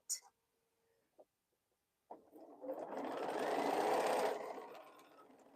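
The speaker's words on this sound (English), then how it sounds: "So I'm sewing my rows together now." A sewing machine joins rows of quilt blocks, its motor whirring up into a continuous run of stitching that swells, holds and then stops after a few faint knocks and clicks at the start.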